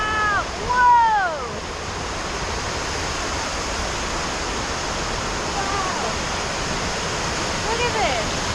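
A Sierra waterfall on the Panorama Dome hike at Mammoth roars as a loud, unbroken wash of water, with a few brief exclamations heard over it near the start and end.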